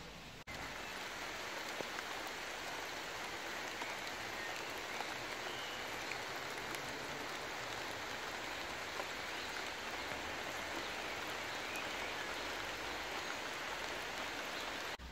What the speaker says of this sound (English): in the greenhouse when it's raining.